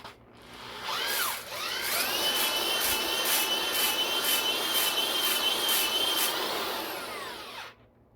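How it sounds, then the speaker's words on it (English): A ball hone spun by a drill whirs steadily inside an oiled engine block cylinder, a loud rising whine that holds for several seconds and winds down, close with no talking. "Let's go ahead and hone this out."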